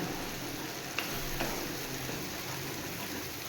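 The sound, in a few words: stirring mankochu (giant taro) paste to dry it in a pan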